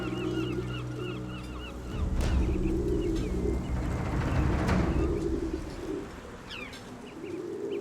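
Pigeons coo in low, repeated throaty calls that carry through a steady background hum, with a few louder flutters or knocks mixed in and no talking.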